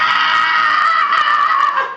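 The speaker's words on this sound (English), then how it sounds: "and you hear this screech." A harsh, loud screech sounds as a sound effect tied to a shattering mirror, a sustained shrill wail that wavers slightly over two seconds, close and alone without talk.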